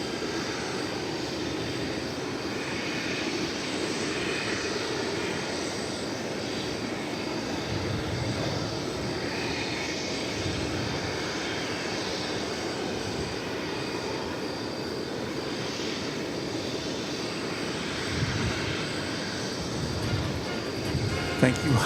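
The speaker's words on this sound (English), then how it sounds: "So it looks like we are going to get to see a takeoff over here" Airliner taking off on runway 18 Left at Dallas/Fort Worth Airport, a broad steady jet engine roar heard from a distance and holding for the whole stretch, with a voice talking over it.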